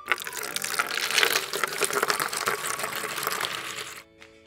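A thick carrot, apple and cucumber smoothie pours steadily from a toy blender into a cup with a gurgling, splashing rush that stops abruptly near the end.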